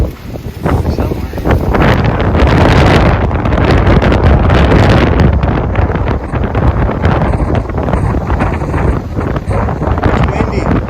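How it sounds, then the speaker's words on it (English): Strong, steady wind buffets the microphone aboard a boat at Staniel Cay in the Exumas during a wind storm, a loud continuous roar that persists throughout with brief voices underneath. "It's windy."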